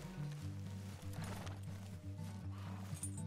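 A horse in Red Dead Redemption 2 clip-clops steadily in a close, even rhythm, with a brief whinny mixed in over a low droning game score.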